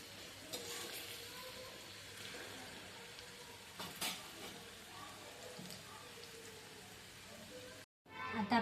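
Onions frying in oil over a high gas flame for a vegetable dum biryani, a steady close sizzle with occasional stirring scrapes running throughout before a brief cutoff near the end.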